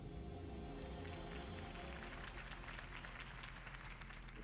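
Crowd applause after a campaign speech in a Batman video game, a dense, steady wash of clapping and cheering that fills the whole stretch at an even level, with no talk over it.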